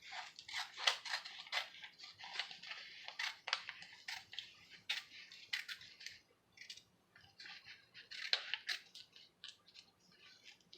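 Scissors snip through paper as butterfly shapes are trimmed for a sunflower book. Quiet close-up cuts come one after another in an irregular rhythm, with short pauses between bursts.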